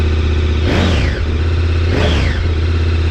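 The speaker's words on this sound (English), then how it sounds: "let's do a sound test on the stock exhaust" A KTM 1290 Super Adventure R on its stock exhaust idles loudly in a garage and is blipped twice, each rev rising sharply and falling back to a deep, steady, throbbing idle.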